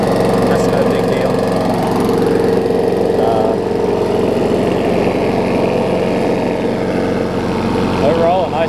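A small engine drones steadily throughout on a Murray lawn mower deck fitted with a transplanted Weed Eater mower engine, close and fairly loud, with a faint voice occasionally audible underneath.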